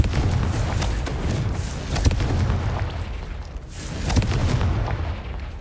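Spell explosions from the Confringo fire spell in the Hogwarts Legacy video game, with sharp blasts near the two- and four-second marks over a steady booming rumble of combat effects.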